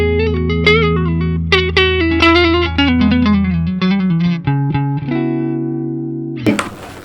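Clean electric guitar straight into a Kelt Axel Bauer amp, a sequence of sustained chords and picked notes ringing out with a touch of the amp's reverb, ending in a brief scratchy strum.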